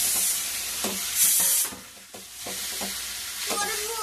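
Boiled potatoes, cooked in their skins and salted, fry in a pan while being stirred, a loud hissing sizzle punctuated by rhythmic spatula scrapes that come roughly every half second.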